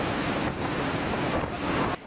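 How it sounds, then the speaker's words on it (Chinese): Strong gusting wind in front of a department store during a typhoon-like gale, a loud roaring rush buffeting the microphone in heavy waves with brief lulls, no voices. "百货前一阵强风来袭"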